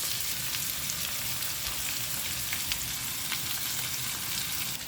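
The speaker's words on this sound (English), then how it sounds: "For best taste, you can stir fry like this." Trout stir-fries in a hot pan with a dense, steady sizzle and crackle close by, occasional stirring clicks, no talk.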